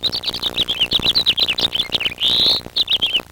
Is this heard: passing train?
no